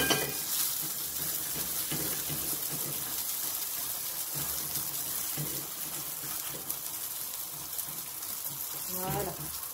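Dough fries in a pan with a little oil, giving a steady, close sizzle through the whole stretch, with faint scraping and stirring noises mixed in.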